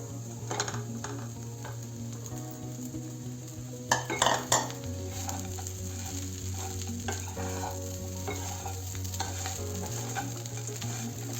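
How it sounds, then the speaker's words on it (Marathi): Sliced leftover idlis with turmeric, sambar masala and salt fry in a pan under a steady close sizzle. A spatula scrapes and clinks against the pan again and again, with a short burst of louder metal knocks partway through. "काप केलेल्या इडल्या घालून घेऊ।"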